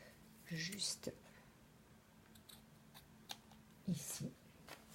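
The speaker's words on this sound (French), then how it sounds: "Je vais pouvoir couper avec une paire de ciseaux" Scissors snip a paper accordion envelope in a few quick cuts, heard near and quietly. Soft whispering and small handling noises fill the gaps.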